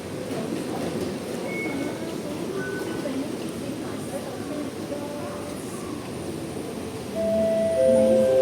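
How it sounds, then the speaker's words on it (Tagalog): A metro train bound for Admiralty on Hong Kong's rail network pulls into a station platform with automatic gates, a loud steady rumble building, with faint tonal squeals and a louder surge near the end, while voices and announcements sound faintly. "The train to Admiralty is arriving."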